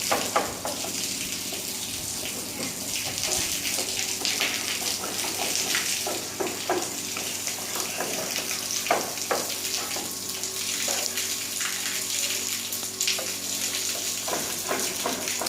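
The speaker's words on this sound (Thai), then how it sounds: "ล้างฝุ่นทั้งหลายออกจากบนหลังคา" A continuous broadband hiss of water spraying onto a roof to wash off dust, steady and fairly loud throughout with scattered small splashes and clicks, no voices.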